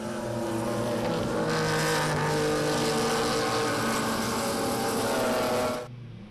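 BMW race cars in a Class D, E and F circuit race roar past in a pack, loud sustained engine noise with overlapping revs that fades away at the end.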